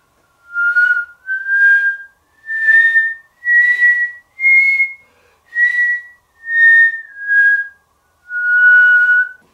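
A solo whistled melody of about nine sustained notes, each swelling in gradually rather than starting crisply, separated by short gaps, close and clear with no talk.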